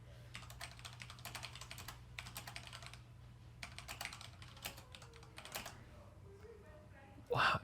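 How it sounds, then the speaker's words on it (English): Someone types quickly on a computer keyboard in bursts of rapid clicks with short pauses between them. The typing sounds close but fairly quiet over a low hum, and a brief louder noise comes at the end. "Type out the word 30."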